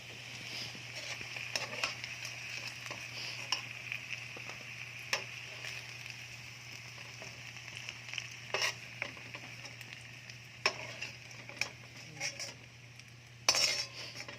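Beef frying in a pan for beef puchero, with a soft steady sizzle under repeated clinks and scrapes of a utensil against the pan, close and moderately quiet, without talk.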